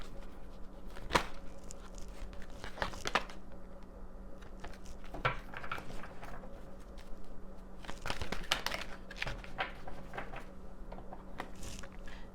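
Oracle cards being shuffled and drawn by hand, soft close crinkling and flicking with light taps scattered over a quiet indoor background.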